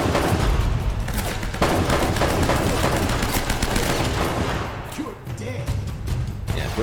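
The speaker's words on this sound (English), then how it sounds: "There's a guy with a sniper rifle," Rapid gunfire fills an Uncharted firefight, dense sharp shots and bursts continuing almost without pause, with a voice faintly heard beneath.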